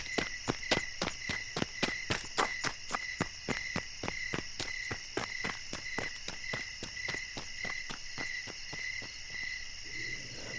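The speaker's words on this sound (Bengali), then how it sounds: "ভারী বুটের শব্দ মিলিয়ে যাচ্ছে ওপরে গ্রামগুলোর দিকে।" Heavy boots trudging away toward the villages in a steady, even rhythm of crisp footfalls over a constant backdrop of chirping crickets at night.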